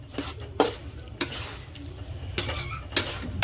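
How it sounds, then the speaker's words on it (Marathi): Raw mango gulamba with ghee being stirred in a pot over a low flame, a spoon scraping and clinking against the metal in several distinct strokes, close and fairly loud with a steady low hum beneath. "तर आता आपण याला चांगलं असं ढवळून घेऊया"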